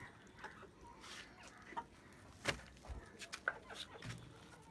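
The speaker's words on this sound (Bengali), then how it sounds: "তো এখানে আমার আছে তিনটা মুরগি, এই দুইটা মোরগ, আর এই সাদাটা মুরগি।" Chickens and roosters on a rooftop garden give faint, scattered clucks and short calls against a quiet background.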